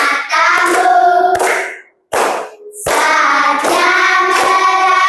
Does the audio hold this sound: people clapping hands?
yes